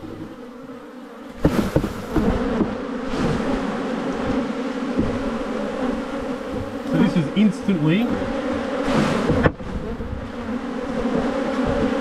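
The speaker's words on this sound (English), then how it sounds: "an injection of bees into the hive." Swarming honeybees buzz loudly and continuously as frames of brood are shaken into a top bar hive, a dense steady hum with a sudden rise in intensity partway through and a few sharp knocks.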